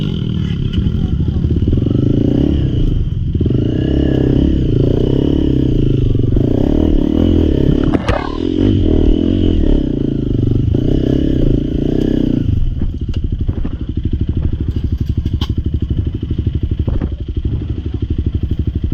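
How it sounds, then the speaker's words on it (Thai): A motorcycle engine idles and revs loudly up close, with throaty bursts of acceleration and some mechanical clatter, then settles into a steady rumbling idle. "ต้องเบิ้ลทีหนึ่งอะพี่กับสตาร์ทเบิ้ลนั่นแหละ"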